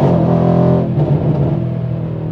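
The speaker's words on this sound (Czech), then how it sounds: "A samozřejmě umí prdět do vejfuku." A Mercedes-AMG C63 with 510 hp revs hard close by, its loud engine note falling away into a rumbling idle with a few crackles from the exhaust. No one speaks.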